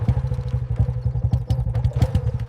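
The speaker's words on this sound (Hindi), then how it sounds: "जीजा जी थोड़ा एक साइड में बाइक रोकोगे?" A motorbike engine idles and putters with a steady rhythmic chug as the bike pulls over to stop at the side of a road, heard close and fairly loud with no talk.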